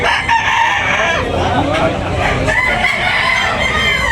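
A rooster crows in a noisy yard at a chicken market in Tabunok, Talisay, Cebu, its call blending with steady clucking and background chatter throughout.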